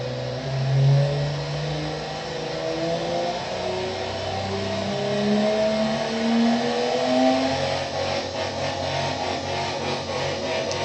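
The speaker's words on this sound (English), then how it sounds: "even sounds like a diesel. But then we rev it up." An unusual diesel-sounding car engine from a weird Mk3 engine build revs up steadily, its pitch sweeping up and down through several climbs, loud and close with no talk.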